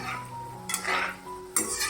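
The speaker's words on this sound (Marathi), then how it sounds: "असं गोळे आपल्या हलवत राहायचे कोबी मंचुरियनचे." A spoon scrapes and clinks against a metal pan while cabbage Manchurian balls are stirred in hot oil. Two sharp scraping bursts stand out over a steady low sizzle and hum, with no talking.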